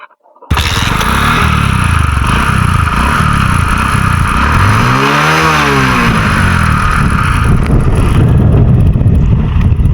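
A motorcycle engine starts up loud and close, idling with a rough throb, then revs up and back down once in the middle before settling into a steady run again.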